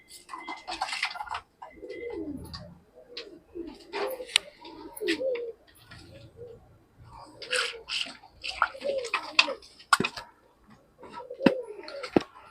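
Pigeons in a loft coo in repeated low, throaty bursts with a few sharper bird calls and wing or perch noises between them, close and moderately loud, with no speech.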